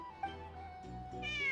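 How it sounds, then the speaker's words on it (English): A cat in the Genshin Impact video game gives drawn-out, wavering meows, close and clear over a low background hum, with no speech. "Hey Nefer, come get your cat."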